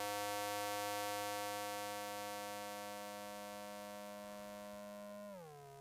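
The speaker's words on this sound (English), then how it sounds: "sub oscillator 2 octaves down." A sustained buzzy synthesizer tone with a sub oscillator two octaves down holds a steady low pitch, fades slowly, then glides downward at the end; no voices.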